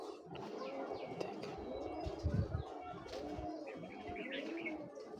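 Pigeons, including Jalali birds, coo softly in a loft among scattered chirps, with a brief flutter, under a faint steady background and no clear talking.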